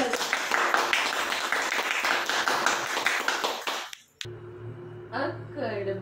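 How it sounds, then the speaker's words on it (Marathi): Brief scattered clapping from a small family group after a home game, a few hands tapping unevenly for several seconds before breaking off, followed by a voice speaking. "आजीसाठी सुद्धा टाळ्या एकदा होऊन जात"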